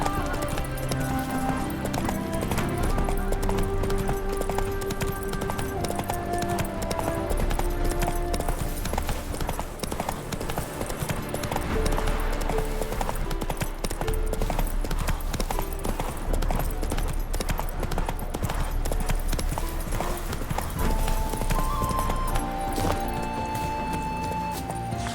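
Horse hooves clip-clop continuously in The Witcher 3: Wild Hunt, a steady trotting rhythm heard up close under a dense bed of game music and ambience.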